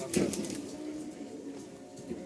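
A pair of Rajshahi giribaz tumbler pigeons, a hen and a cock, give soft, low cooing close by, a gentle steady murmur that swells near the start and again toward the end, with no voices.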